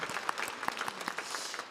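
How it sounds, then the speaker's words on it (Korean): A church congregation claps together in blessing during a service, a short burst of distinct, fairly sparse handclaps from a modest group, heard close and without talk. "우리 서로를 위해서 함께 축복의 박수 함께 보내셨으면 좋겠습니다."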